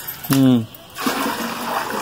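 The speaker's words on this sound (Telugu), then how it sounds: "దీంట్లోకి వస్తాయి మాకు పంచాయతీ నీళ్ళు" Panchayat tap water pours into a village storage pit, a steady splashing, rushing stream that follows a short spoken voice and continues close and even.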